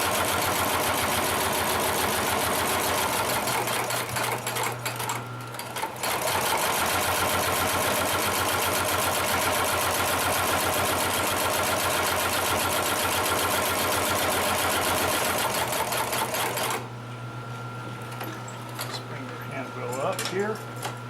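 A Consew 733R-5 heavy duty lockstitch sewing machine stitches through thick saddle leather, running in a fast steady rattle that stops briefly and then resumes, with a low motor hum underneath.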